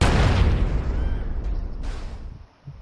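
A gas tank blowing up after being shot in GTA San Andreas, a loud, close boom with a rumbling roar that slowly fades over a couple of seconds, ending in a faint thump.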